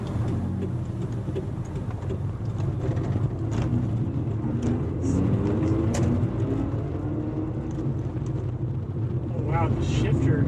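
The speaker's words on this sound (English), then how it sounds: "Even when you're part throttle in first gear, you can already hear the first turbo spinning." A 1993 Mazda RX-7 with a twin-turbo rotary engine pulling at part throttle in first gear, a steady cabin drone of engine and road noise with faint turbo whine, while people talk throughout.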